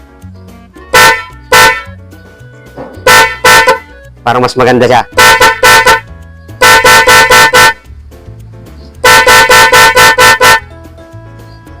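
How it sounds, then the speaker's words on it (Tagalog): Car horn wired through a relay harness in slow mode, sounding in a series of loud, repeated blasts with short gaps, some single toots and some rapid clusters, close by, with a voice speaking briefly between them. "Pang pabago ng busina."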